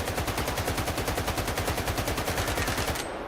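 Sustained automatic gunfire in STALKER 2 aimed at a fleeing enemy, a loud, rapid, evenly spaced burst of shots running for about three seconds before cutting off abruptly, no voices over it.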